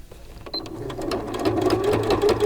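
A sewing machine stitches through four layers of fabric on a microwaveable bowl cozy, its close rapid mechanical whirr starting softly and building into a steady run.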